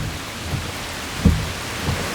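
Heavy rain pours steadily around a bus stop, with a dull thunderclap thudding once partway through; the downpour is loud and constant, with no voices.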